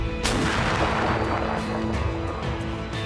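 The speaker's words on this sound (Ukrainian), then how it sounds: "Постріл!" A sustained loud roar and rumble from mortar fire in a combat zone, a booming blast rolling on for several seconds with no voices.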